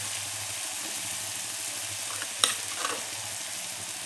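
Onion tomato chutney with turmeric and spices is stirred in a frying pan, a soft steady sizzle with faint scraping strokes and one brief louder clink near the middle.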